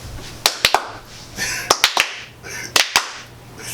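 Sharp, close hand claps in a quiet podcast room, struck in quick pairs several times over, each crack standing out loudly against a low steady hum.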